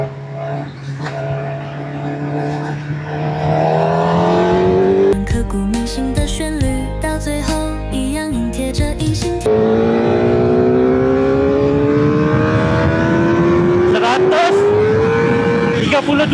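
A QJMotor SRK 450 RR four-cylinder motorcycle engine revs loudly and climbs in pitch, with rapid downshifts without a quick shifter and blips partway through, close and continuous.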